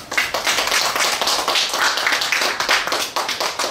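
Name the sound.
audience applause welcoming speaker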